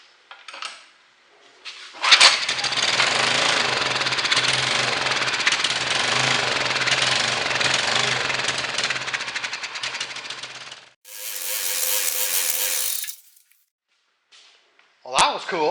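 A 1200 watt generator engine fires on gas squirted into its carburetor, running loudly for about nine seconds with a rough, clattering roar, then cutting out, followed by a shorter burst of noise and a final brief sound.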